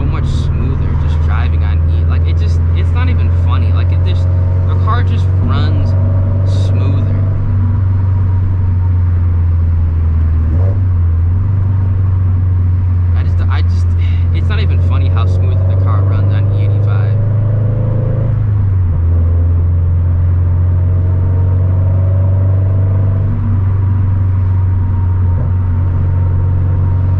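A Scion FR-S running an E85 tune cruises casually, its engine a steady low drone with gentle shifts in load and pitch, while a person talks over it throughout.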